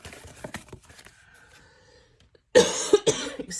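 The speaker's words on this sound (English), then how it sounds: "Excuse me for coughing." A quiet, muffled stretch followed by two or three sharp coughs close up near the end.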